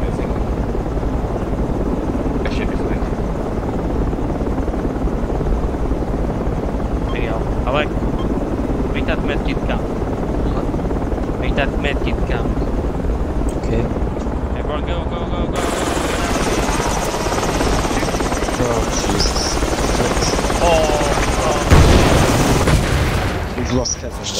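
A helicopter in the video game Project Reality keeps up a steady low rotor thrum and engine roar for the whole stretch, with occasional distant gunfire cracks and a burst of brighter noise near the end.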